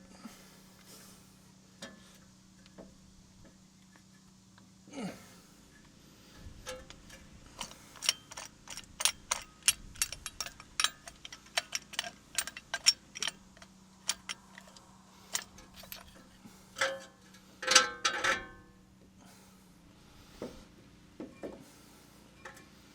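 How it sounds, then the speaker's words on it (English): Brake caliper piston on a Ram 2500 pickup being pushed back into its bore, giving a run of sharp metallic clicks and ratcheting ticks in quick bursts, close and fairly loud over a low steady hum. "Push this piston in. We'll have to go back and forth a couple times"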